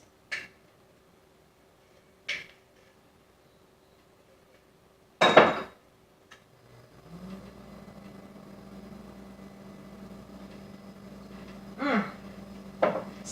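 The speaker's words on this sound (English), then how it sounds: "we'll get a spoon, and we will add probably a tablespoon of our caramel sauce" A spoon clinks against containers a few separate times while caramel sauce is spooned out for a homemade blended coffee, with a steady low hum rising partway through; the sounds are sharp, close and fairly quiet, and no one talks.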